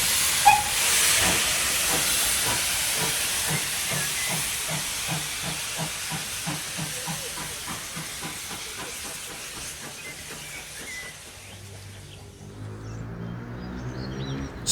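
A steam train releases a loud, steady hiss of steam that fills most of the stretch, with faint rhythmic chuffing underneath; it eases off near the end as lower tonal rumbles take over. No one speaks.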